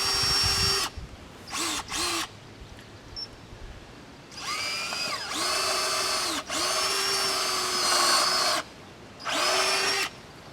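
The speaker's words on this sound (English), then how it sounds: "what we're going to do is we're going to drill a new hole." A power drill bores a new hole for a bolt in a low-impact timber corner, whirring in several separate bursts of varying length with quiet pauses between, fairly close and with no talking.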